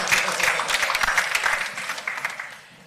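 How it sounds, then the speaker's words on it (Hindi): Studio audience applause at the launch of a TV comedy show, dense clapping holding steady and fairly loud before fading away near the end, with no talk over it. "हमारे अखाड़े के लिए भी ताली बजाइए।"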